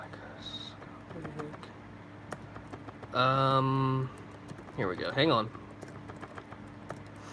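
Scattered, faint clicks of typing on a computer keyboard run through a casual live hangout, sitting under nearby spoken talk and pauses.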